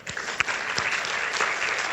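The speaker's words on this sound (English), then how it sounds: "Little round of applause for this guy." Brief, lively applause from a crowd, with a few sharper individual claps standing out in the steady patter.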